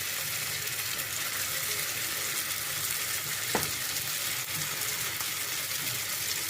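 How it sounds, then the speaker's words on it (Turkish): Stuffed bulgur meatballs (içli köfte) fry in hot oil with a steady, dense sizzle and a few small pops throughout, close and continuous, with no speech. "Evet yağımız ısınmış köftelerimizi koyalım."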